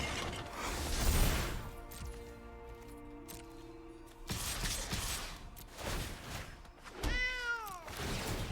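A cartoonish cat meows in the MTG Arena card game, a brief rising-and-falling mew near the end after stretches of mechanical clicking, whirring and game effect sounds.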